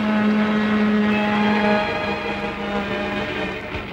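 A vintage propeller airplane drones overhead as it banks into a turn, a loud, steady engine hum with a strong low tone that eases slightly toward the end.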